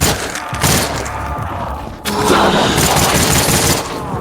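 Rapid automatic gunfire from a VR zombie shooter game on a Quest headset, a dense continuous fusillade of shots with thuds, loud and steady throughout, briefly dipping mid-burst before resuming.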